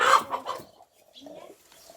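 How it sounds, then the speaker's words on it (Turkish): Backyard chickens give a few short, close clucks between brief pauses, quiet and sparse, with a voice speaking at the start. "Tavuklar yiyor."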